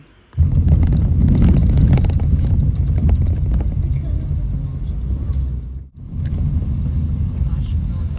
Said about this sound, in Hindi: अभी हम एक छोटे से पैचेस एक ऑफ रोडिंग से गुजर रहे हैं